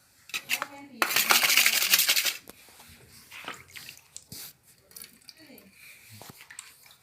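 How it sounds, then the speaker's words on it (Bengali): Shampoo being mixed with water into a lather for refrigerator leak testing, heard as a loud burst of splashy, clattering stirring followed by quieter intermittent clinks and squishes, with a voice present at times. "শ্যাম্পু দিয়ে ঝাঁক বানিয়ে নিচ্ছি জলের মিশ্রণে।"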